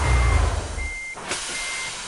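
A truck reverses in the Euro Truck Simulator 2 video game, its backup alarm sounding in steady, even electronic beeps. A deep engine rumble fades out early on.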